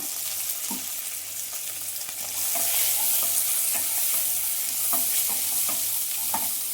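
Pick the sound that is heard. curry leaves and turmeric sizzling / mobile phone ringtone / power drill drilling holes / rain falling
curry leaves and turmeric sizzling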